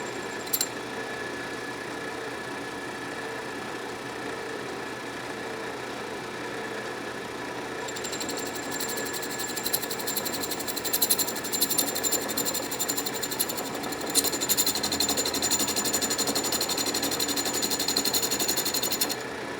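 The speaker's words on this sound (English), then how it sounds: "Obviously I'm cutting through the old threads, so it's an interrupted cut, hence a little bit of chatter" Atlas Craftsman metal lathe taking an interrupted cut through old threads on a workpiece, a steady machine whir that turns into louder, buzzy chatter partway through, close and continuous with no talking.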